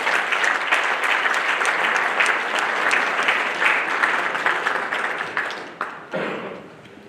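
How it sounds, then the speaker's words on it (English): Sustained applause from an audience at a business pitch night, a dense steady clapping that thins out near the end, fairly close and loud. "Let's give One Brush a round of applause."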